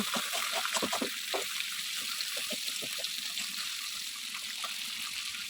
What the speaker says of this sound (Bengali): কড়াইটা পরিষ্কার করে নিচ্ছি